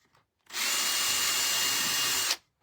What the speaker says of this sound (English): So I think I will just drill one maybe right here.